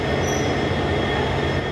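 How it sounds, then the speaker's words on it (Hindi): Passenger train pulling out of platform 3 at Ferozepur Cantt station, a steady loud rumble of wheels and carriages heard close, with no talk. "तो चल चुकी है हमारी ट्रेन"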